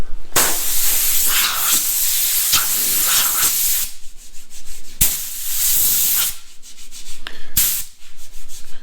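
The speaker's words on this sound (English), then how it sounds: "I've blown it off with my air compressor a few times." Compressed air from an air compressor blasts across a gritty folding table in loud, hissing bursts, several long blows separated by brief pauses, with no talking.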